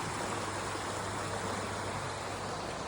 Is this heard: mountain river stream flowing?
yes